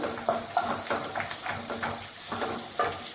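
Garlic sizzling in hot oil in a pan for a Kerala onion chutney, a steady crackling fry with occasional stirring scrapes throughout, close and fairly loud.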